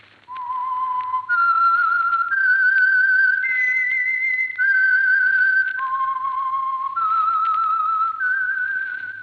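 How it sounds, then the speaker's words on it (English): A whistled theme tune for The Whistler, the Signal Oil mystery radio program: a clear, loud solo melody of sustained notes stepping up and down, with a long pause-free phrase and faint hum beneath. "Yes, friends, that whistle is your signal for the Signal Oil Program, The Whistler"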